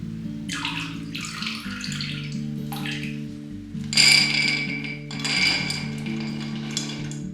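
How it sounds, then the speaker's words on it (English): Water runs from a tap over chickpeas in a sink or pot, with a steady splashing stream broken by a few louder bursts and light knocks of the container. "Rinse them well, change the water once, then drain and place into a pot."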